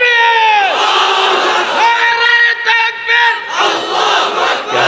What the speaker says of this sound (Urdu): تم ہی لوگ اگر نعرے لگاؤ گے تو بولنے والا کیا بولے گا؟